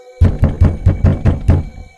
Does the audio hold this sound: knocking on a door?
yes